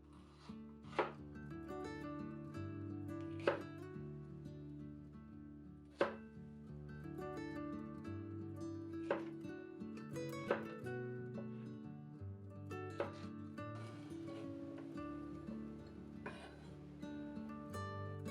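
A knife chops green bell pepper on a board, with sparse sharp cuts spaced a few seconds apart over soft background music.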